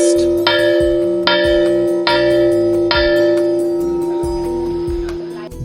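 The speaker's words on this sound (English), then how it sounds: "a bell rings at 10 o'clock, signaling students to turn off the lights and rest" A bell rings at night at a Gandhi Ashram camp to signal lights out, struck four times in a steady rhythm, each ringing tone sustained and overlapping with the next, loud and close.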